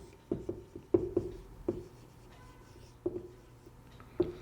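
Pen strokes on paper while filling in an accounting worksheet, a few short scratchy marks with pauses between them, close and fairly quiet.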